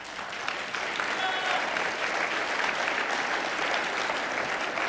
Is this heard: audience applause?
yes